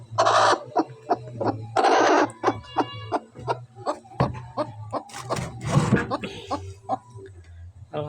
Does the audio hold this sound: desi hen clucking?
yes